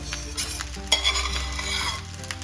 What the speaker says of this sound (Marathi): आता आपण सगळा राईस घालून घ्यायचा यामध्ये.